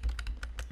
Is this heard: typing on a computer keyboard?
yes